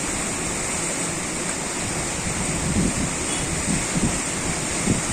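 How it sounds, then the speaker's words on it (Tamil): The Thamirabarani river in flood, its fast water rushing in a steady, loud, broadband roar over rocks, continuous and close with no voices. "தண்ணி எவ்வளோ வேகமாக வந்துட்டுருக்குங்கிறத மட்டும் பாருங்கள்"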